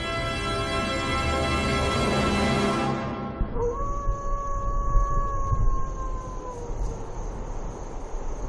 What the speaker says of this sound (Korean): 하울링은 늑대들의 소통 방법.